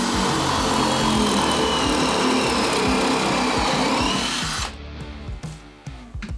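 A cordless drill spins a self-centering plug cutter into wood, a loud steady whine with grinding cut for several seconds, then slowing and stopping into a few short bursts and pauses.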